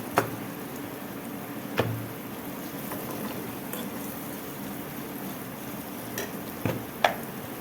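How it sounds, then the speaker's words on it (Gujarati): Garlic cloves with turmeric and spices frying in oil for a rustic Gujarati garlic curry, a steady soft sizzle with a few sharp scrapes of a spoon stirring the pan at intervals. "હળદર ને એવું બધું તેલમાં શેકાઈ ગયું છે."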